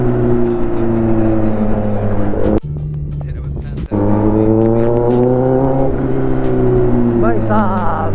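Open exhaust of a Kawasaki ZX10R motorcycle during a ride, a loud, sustained engine drone with steady harmonics that dips briefly and then returns, rising in pitch near the end as the rider accelerates.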